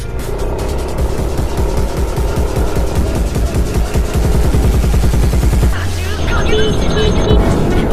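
Two Yamaha Aerox scooters, 2021 and 2020 models, accelerate together from 40 km/h, their engines a loud, close, rapid pulsing buzz that swells continuously, wind noise mixed in and a voice briefly heard.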